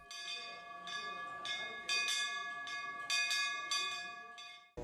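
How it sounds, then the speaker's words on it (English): A Shiva temple bell rings in steady repeated strikes roughly every second, each bright metallic clang hanging on with a long ringing tone. The strikes are clear and fairly close, with no talk over them. "तो मैंने सोचा कि क्यों ना दरबार की घंटी बजे"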